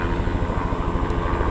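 A news helicopter flies overhead, its rapid rhythmic rotor thumping loud and steady throughout.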